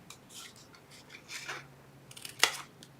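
Scissors cutting a paper box along a score line give soft, close snipping and rubbing strokes at a steady pace, ending in one sharper snip, faint and quiet with no talk.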